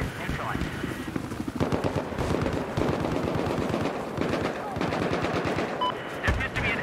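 Rapid machine gun fire in the Battlefield 4 video game rattles on continuously and densely throughout, with heavy bursts and battlefield noise layered beneath.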